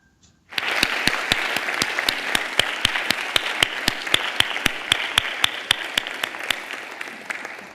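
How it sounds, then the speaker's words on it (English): An audience breaks into sustained applause after a talk on circular fashion at SDA Bocconi, starting abruptly and continuing steadily with a few sharper individual claps standing out, fairly close and without speech. "There was a big applause."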